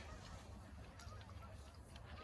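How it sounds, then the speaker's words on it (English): Geese honk faintly in the distance, barely rising above a steady outdoor rush of wind-like noise. "Geese."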